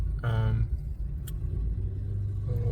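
Cars rumbling past close by outdoors, a steady low road-traffic drone with a brief louder engine swell, while a person talks over it.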